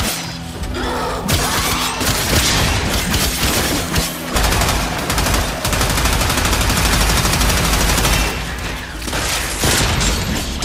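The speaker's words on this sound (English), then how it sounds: "Destroy it with weapon fire." Dense, loud weapon fire in the Warframe video game, rapid continuous bursts layered with booms and mechanical clatter, filling the whole stretch with barely a pause.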